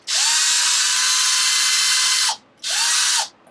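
A power driver spins out tiny grub screws from the axles of a Traxxas XO-1 RC car, running in a long, loud, steady whir that cuts off, then a second shorter burst close up with no talk.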